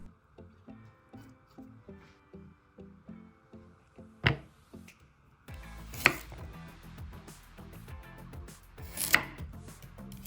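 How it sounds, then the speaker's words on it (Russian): A knife chops a medium onion into a few pieces on a cutting board, giving a steady run of close, crisp cuts and taps, with louder, busier kitchen handling toward the end. "Разрежем средний лук на 3-4 части."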